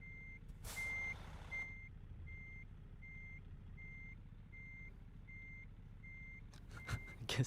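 Reversing beeps sound from a truck being parked in American Truck Simulator, a steady run of evenly spaced beeps over a low engine rumble, with a brief burst of hiss near the start and a few sharp knocks at the end.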